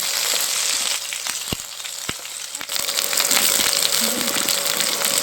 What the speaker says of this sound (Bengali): পটলগুলো বেশ লাল লাল করে ফ্রাই করে নিয়েছি